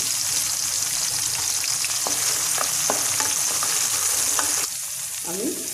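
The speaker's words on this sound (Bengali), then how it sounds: "রসুন আর সময় ভেবে ভেজে নিলাম" Whole garlic and dried red chilies fry in hot oil for a green chili pickle, a dense, continuous crackling sizzle with occasional stirring taps, dropping quieter near the end.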